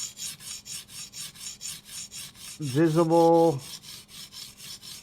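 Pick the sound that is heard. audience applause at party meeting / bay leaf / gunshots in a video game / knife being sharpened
knife being sharpened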